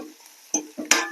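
Chopped greens and tamarind leaves fry in a pan, with a few short stirring scrapes and bursts of sizzling, close and fairly quiet.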